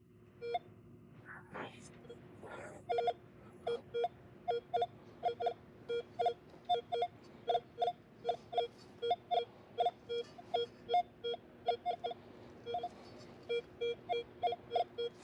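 An XP Deus 2 metal detector in Forager program mode, set up to pick out nickel signals, gives a long series of short, evenly spaced beeping tones. The pulses sound close and clear over a low background hum, with no speech.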